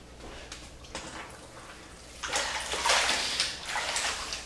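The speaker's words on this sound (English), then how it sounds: "I'm just going to fill up my bucket with clean water" Clean water pours from a tap into a bucket while a natural stone floor is being rinsed, starting as a thin trickle and then swelling into a louder, steady gushing fill.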